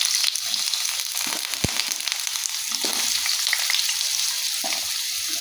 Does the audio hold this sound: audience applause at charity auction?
no